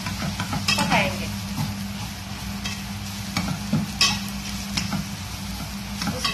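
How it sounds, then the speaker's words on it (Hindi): Turmeric and masala spices sizzle in oil while a spoon stirs and scrapes the pan in irregular knocks, a soft steady frying hiss underneath, no talk. "अभी ये फीका मसाला डालेंगे और वो भी अच्छी तरह से भुनेंगे।"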